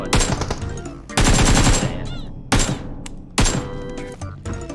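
Automatic gunfire in the PUBG Mobile battle royale game: four loud, close bursts of rapid shots, each cutting off sharply and separated by short gaps, with game ambience between them.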